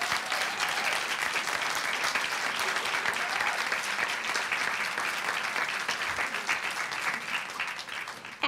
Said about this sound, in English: So please give him a big San Bernardino City Unified round of applause.